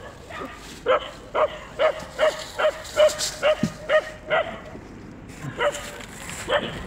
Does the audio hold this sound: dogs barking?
yes